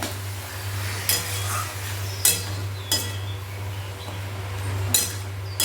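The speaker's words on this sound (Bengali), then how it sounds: "মিডিয়াম রেখে খুব ভালো করে কষে নিচ্ছি" Mushrooms stir-fried with spices in a pan over a medium flame, a soft steady sizzle broken by several sharp scrapes and clinks of a spatula against the pan, under a constant low hum.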